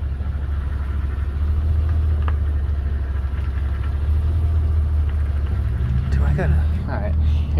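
A four-wheel-drive vehicle's engine drones steadily as it drives, a loud continuous low rumble throughout, with brief voices and rattles near the end.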